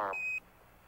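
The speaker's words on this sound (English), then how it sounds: "we got the first program alarm" A single short electronic beep from the Apollo 11 guidance computer's 1201 program alarm during the lunar landing, a brief thin tone heard alone and fairly faint before quiet hiss.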